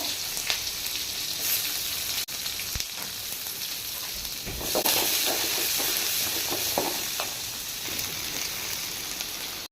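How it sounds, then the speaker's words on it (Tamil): Chopped onions frying in oil with mustard seeds and curry leaves for a curry-leaf kuzhambu, a steady close sizzle with brief stirring scrapes and no talk. "நம்ம கட் பண்ணி வச்சுக்க வெங்காயம் சேர்த்துக்கலாம்."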